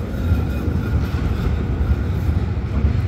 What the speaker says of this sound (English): with these very old, heavy trams.